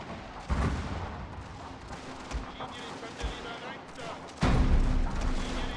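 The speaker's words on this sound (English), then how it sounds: "I wonder if the howitzers are actually like able to lay proper fire onto these. And also a little bit of the suppression fire should do good." Howitzer artillery and suppressing gunfire in a Prussian colonial war strategy game, with repeated booms and bursts of shots rolling under a steady battle din, the heaviest blast near the end.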